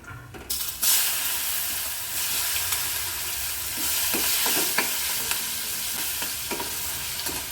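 Tomatoes dropped into a hot pan for a Gujarati sweet potato shaak set off a sudden loud sizzle that settles into a steady frying hiss, with occasional stirring scrapes and clacks, close up and without talk.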